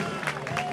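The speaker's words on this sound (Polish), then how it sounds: "Dziękujemy brawami!" A crowd applauds a rider at a medieval mounted knight tournament at Grunwald, a brief burst of scattered clapping with a voice speaking over it.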